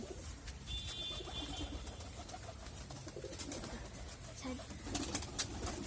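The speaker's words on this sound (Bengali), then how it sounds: "আমার কবুতরগুলো দেখুন" Pigeons kept on a rooftop garden cooing softly and continuously, low murmurs repeating under outdoor ambience with a few brief sharper bird sounds near the end.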